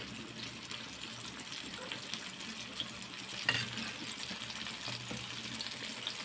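Coated chicken pieces frying in hot oil, a faint, steady bubbling sizzle with occasional soft pops, heard at a distance with no talking.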